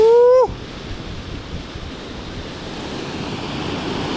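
Sea waves break on a shore in a continuous, loud wash of surf with wind noise on the microphone, after a brief tonal sound at the very start.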